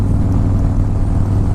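Harley-Davidson Fat Boy S motorcycle on Dunlop American Elite tires rumbles steadily while riding, a loud continuous low engine drone with wind noise and no talk.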